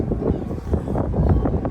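Low, rumbling wind buffets the microphone in uneven gusts, fairly loud and close, with no clear voices.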